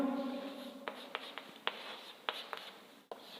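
Pen writing on paper while solving a class 11 trigonometry problem, a steady scratchy stroke with several sharper taps and lifts, close and alone with no talk.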